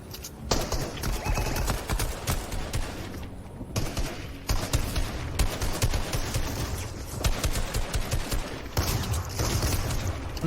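Dragon's Breath shotgun fire in a competitive video game match, heard as repeated sharp, loud blasts in irregular bursts, with dense action noise between shots.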